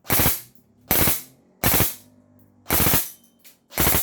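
An M4A1 airsoft rifle fires five loud, rapid full-auto bursts, each about half a second long, separated by short silent gaps and heard up close.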